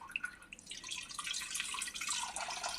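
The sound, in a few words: rinsing homemade paneer with water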